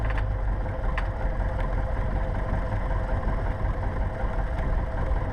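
A Cessna 172 piston engine idles steadily during an idle check, a continuous low rumble that holds even and loud throughout with no voices over it.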